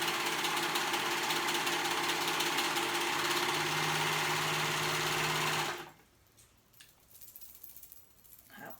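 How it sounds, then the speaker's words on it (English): A sewing machine stitches the raw edge of a fabric band, running at a steady, fast mechanical whir for about six seconds before stopping, followed by faint handling noises. "So I'm gonna sew that raw edge together."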